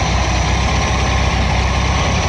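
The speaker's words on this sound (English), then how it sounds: "It's not a perfect idle by any means, but it's better than it was." A Volkswagen engine fitted with a Solex PICT-3 carburetor idling close by, a loud, steady low rumble with a fast, slightly uneven pulse throughout.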